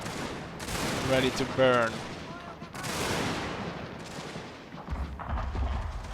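Troops exchange fire in a Total War-style battle game featuring Russia: scattered volleys of distant gunshots and booms rumble under a crowded battlefield din, with someone talking over the action.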